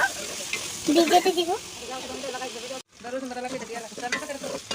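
Meat for haleem fries in hot oil on the stove with a loud continuous sizzle and hiss, stirred with scraping sounds, while a voice talks over it.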